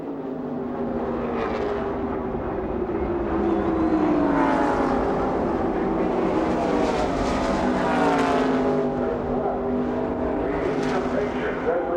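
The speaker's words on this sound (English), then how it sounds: "Here they come down the front straightaway." NASCAR stock cars from the 1995 Brickyard 400 at Indianapolis Motor Speedway roar down the front straightaway in a loud, continuous engine drone, their pitches rising and falling as the pack passes, while a commentator speaks over the noise.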